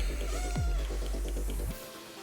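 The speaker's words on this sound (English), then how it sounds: "My cat's here." A pet cat gives a single short meow close by, then a second faint one a moment later, over a low, steady indoor hum.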